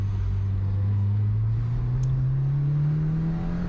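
A 2020 Subaru WRX with an aftermarket exhaust accelerates hard on a wet autocross course, its engine drone climbing steadily in pitch as it revs, heard from inside the car with a constant loud rumble.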